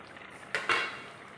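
A ladle knocks twice against a pan while stirring egg curry gravy, two quick close metallic clinks, the second slightly louder and ringing briefly, with quiet background otherwise.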